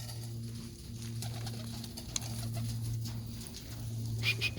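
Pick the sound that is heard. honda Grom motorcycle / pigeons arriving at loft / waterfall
pigeons arriving at loft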